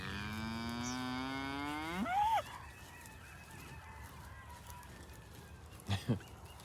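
Cattle moo loudly out in a pasture, one long drawn-out bellow rising at the end, then a short second low call a few seconds later, with faint background noise between.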